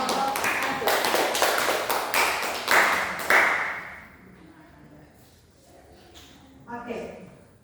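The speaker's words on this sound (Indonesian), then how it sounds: "Berikan aplaus untuk kelompok 1." A classroom group claps and applauds for the first group, a dense burst of many hands for a few seconds, then fading into quieter room sound with a voice speaking near the end.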